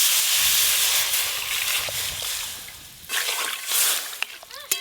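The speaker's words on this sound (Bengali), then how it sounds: "এবার জল দিয়ে দেব।" Water poured into a pan of crab sour curry with raw mango, a steady splashing hiss that softens and then breaks into lighter sloshes and sizzling pops near the end.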